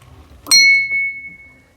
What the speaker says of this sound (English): So it's not a doorbell. And there's a story behind this bell.